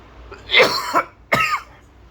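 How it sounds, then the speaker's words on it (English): Two short, harsh coughs sound close to the microphone, the first drawn out and rasping, the second quicker, with a brief pause between them. "I have a dry cough"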